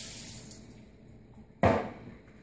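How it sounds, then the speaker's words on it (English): Jarred jalapeños and their juice poured into a colander in a home kitchen: a quiet stretch, then a sudden wet splash and rush of liquid that quickly tails off. "So I'm going to go ahead and just pour it all into a colander."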